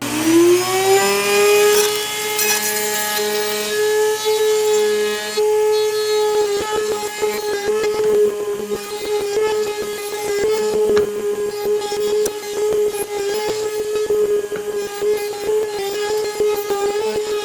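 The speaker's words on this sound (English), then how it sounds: "Now I will use this flush trim bit" A router fitted with a flush trim bit spins up to a high steady whine, then cuts along the rough bottom edge of a CNC-cut wooden horse stall name sign with a continuous loud, rattling grind, with no talking.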